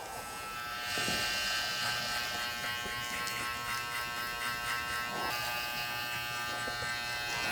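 Electric hair clippers buzzing steadily and close up while cutting hair in a barbershop-style haircut, a continuous motor hum with small shifts in pitch as they move.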